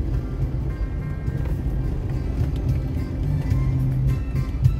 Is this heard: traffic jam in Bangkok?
yes